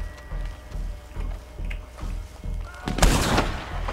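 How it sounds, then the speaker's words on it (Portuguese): Machine gun fire rattles in Red Dead Redemption: steady low thumping bursts repeat through the clip, then a louder, sharper volley erupts near the end. "Barulho da metralhadora."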